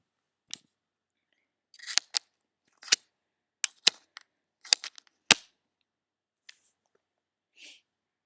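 Scissors make crisp, close snips through gold washi tape and a paper label, coming in short irregular bursts with quiet gaps between cuts.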